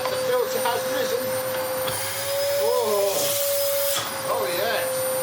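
Restored vintage Electrolux Mondo Z1190e vacuum cleaner running steadily close by, a constant motor drone with a high whine throughout, while a person talks over it.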